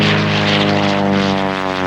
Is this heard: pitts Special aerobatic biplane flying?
yes